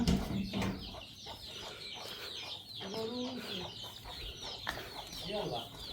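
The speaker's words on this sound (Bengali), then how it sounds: "মুরগির ঘর থেকে মুরগি ছাড়তেছে।" Chickens cluck and squawk near at hand as they are let out of their coop, a busy run of calls and short rising cries spread through the clip, with faint voices in the background.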